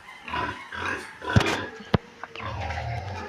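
Sows on a farm grunt and oink in short bursts at close range, with a few sharp knocks and people talking nearby.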